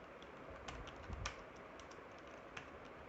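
Light keystrokes on a computer keyboard, a few quiet scattered taps over a low background hiss, with no voice.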